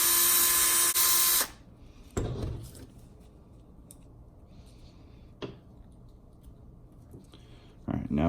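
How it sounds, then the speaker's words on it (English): A power tool drives out the screws on a Traxxas X-Maxx RC differential gear, one loud whirring burst at the start, then quieter short buzzes and clicks of handling between pauses. "Take the rest of it off with the power tool."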